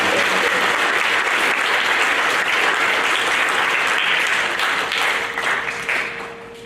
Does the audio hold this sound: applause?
yes